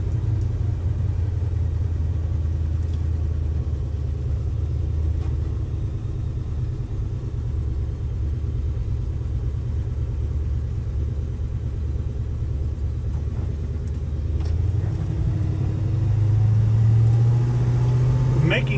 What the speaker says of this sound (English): But the best part is the big block engine under the hood.